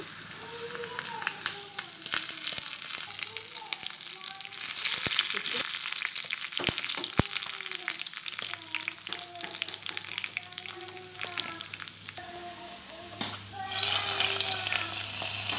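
Curry leaves tempering in hot oil for a hogplum curry, a continuous crackling sizzle with sharp pops and spatters across the whole stretch, a few faint stirring clicks, and no talk.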